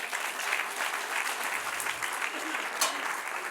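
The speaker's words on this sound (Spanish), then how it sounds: "Denle un aplauso al Señor" A church congregation applauds steadily, a dense wash of clapping held at an even level throughout, heard from a moderate distance.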